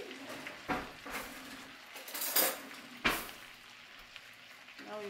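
A spoon bastes pan-seared salmon in a pan, with sharp metallic clinks of spoon against pan over a soft, steady sizzle, several distinct scrapes and taps spaced irregularly and close by.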